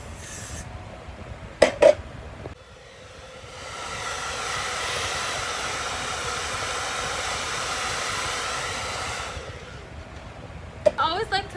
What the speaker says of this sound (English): With my Got To Be freeze spray and just glue the sides.